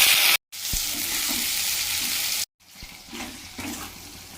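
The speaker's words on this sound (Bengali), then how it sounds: "তার জন্য কড়াইয়ে তেল গরম করতে দিয়ে দিয়েছি। এবারে কুচনো পেঁয়াজগুলো তেলে ভেজে নেব।" Chopped onions fry in hot oil in a kadai with a loud, close, dense sizzle that runs almost continuously, broken only by two brief silent gaps. No voices are heard over it.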